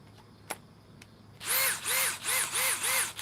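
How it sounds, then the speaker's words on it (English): A DeWalt DCD 805 cordless drill running on a Flex battery through an adapter whirs in five short, close, loud bursts, each rising and falling in pitch, after a quiet lead-in with a couple of faint clicks. "Here's my drill."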